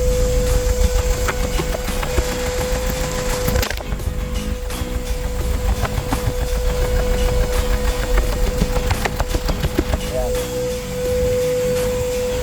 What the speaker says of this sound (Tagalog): palyado yung kanyang andar